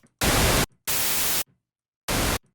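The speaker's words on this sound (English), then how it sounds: "And here's the white noise for you." Three loud blasts of hissing white noise from a 3x Osc synthesizer, each starting and stopping abruptly with near silence in between, the middle burst longest.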